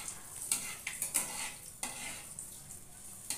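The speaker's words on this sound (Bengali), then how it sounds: "একটু সামান্য নেড়ে নিচ্ছি, একটু ভাজা ভাজা হয়ে যায়, গন্ধটা উঠুক।" Panch phoron spices sizzle in hot oil while a spatula scrapes and taps the pan in short irregular strokes, close and fairly quiet, with no talking.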